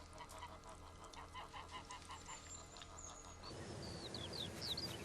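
A flock of geese honks repeatedly at close range, the calls layered and overlapping in a steady chatter that grows busier and louder toward the end.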